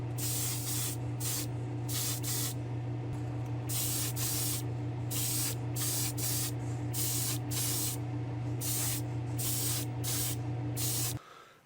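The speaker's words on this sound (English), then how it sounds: "So we're going to try spraying this for the first time on this glass" Black candy paint sprayed onto glass from a spray gun, a steady hissing spray in repeated bursts with short pauses, over a constant low motor hum, close and loud throughout until the spray cuts off at the end.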